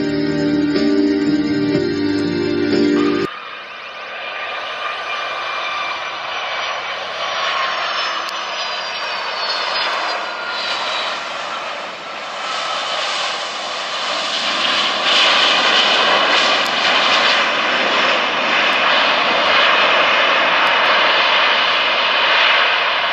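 An Air China airliner's engines roar steadily and loudly as it comes in to land, a broad continuous rumble with a slowly shifting whine. The roar follows a brief burst of music at the start.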